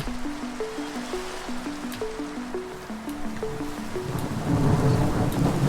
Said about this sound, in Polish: Oj, burza.